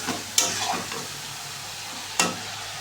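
Ground spices including turmeric and coriander powder fry in oil in a pan, a continuous close sizzle broken by two sharp scraping strokes of a stirring spoon.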